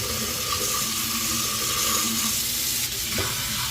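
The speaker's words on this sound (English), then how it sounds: "right now I have turned the hot water on and it has to go for 5 minutes." Hot water gushes steadily from a kitchen tap into a sink, making a loud, continuous broadband rush that stays even throughout.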